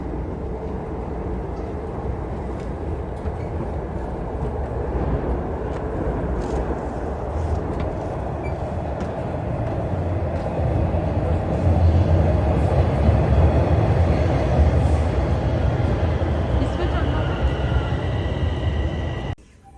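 A train pulls into a station platform on a southbound line, its steady rumble and clatter swelling around the midpoint and staying loud close by before cutting off abruptly at the end.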